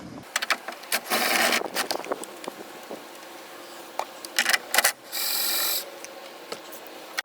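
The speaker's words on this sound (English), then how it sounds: "For the one on the right, you're going to want to use a flex head 10mm wrench" Close-up metallic rasping and scraping bursts from a flex head 10mm wrench working mirror nuts on a 1988–1994 Chevrolet C/K truck during a tow mirror install, with intermittent ratcheting clicks and brief pauses.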